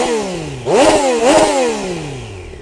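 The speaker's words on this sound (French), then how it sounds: "Je vais attendre un petit peu qu'elle chauffe avant de mettre quelques coups de gaz." A 2020 Triumph Street Triple 765 RS, warmed up and idling, is blipped twice in quick succession, the engine note rising sharply each time and then sliding back down to a smooth idle, loud and close.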